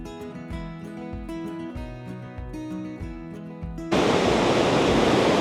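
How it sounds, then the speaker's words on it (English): The River Wharfe rushes through a natural limestone gorge in the Yorkshire Dales near Grassington, its loud, broad roar of falling water cutting in abruptly after a stretch of music. "the River Wharfe flows perfectly through it today"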